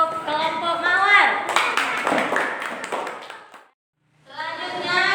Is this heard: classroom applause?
yes